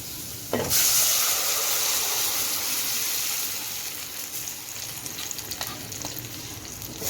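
Tomatoes dropped into a hot pan burst into a loud sizzle that settles into steady frying hiss, with soft scraping as they are stirred.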